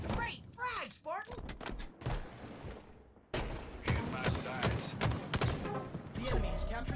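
Assault rifle fire in a Halo video game match, heard as rapid bursts of game gunfire mixed with other game effects and an announcer voice, with a person talking over it throughout.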